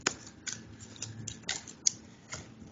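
Tarot cards shuffled quickly by hand, a few soft riffling bursts and light taps spread across a quiet room with no talking.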